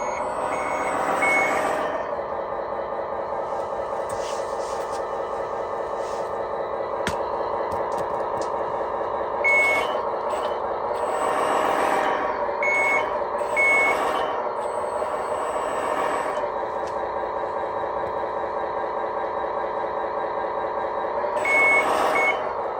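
A 1/14-scale RC truck sound module plays repeated reversing beeps in evenly spaced bursts over a steady idling truck engine hum, with no talking.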